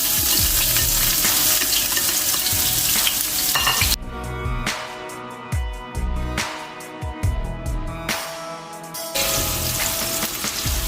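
Onions dropped into hot ghee in a pot, a loud close sizzle and frying hiss that dips and flares with stirring and scraping, no voices.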